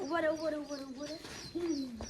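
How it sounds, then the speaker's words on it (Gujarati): A koel calls in a village: tonal, rising and falling hoots with a clear pitch, two phrases sounding moderately close and standing alone. "કોયલ છે"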